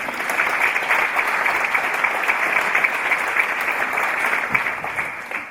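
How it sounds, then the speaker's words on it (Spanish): Theatre audience applauding at the Teatre Talía, a steady dense wash of clapping from many hands that holds evenly throughout with no talk over it. "Es todo lo que va a cobrar este aplauso"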